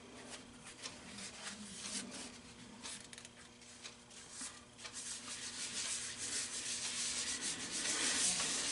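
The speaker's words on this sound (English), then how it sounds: "Now we're going to use Yorkshire grit. And we'll just wipe a thin layer over the whole bowl." Yorkshire grit abrasive paste is wiped over a sanded wooden bowl of spalted hackberry, giving a steady scratchy rubbing that continues without a break and grows a little louder near the end.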